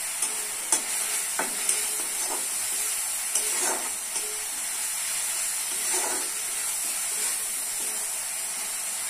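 Onions frying in soybean oil in a pan, with a steady bright sizzle throughout and occasional light stirring scrapes and pops, with no talking.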